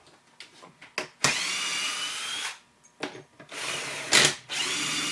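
A power drill drives screws into a homemade belt sander, with several sustained whirring bursts separated by short pauses and small handling knocks, loud and close.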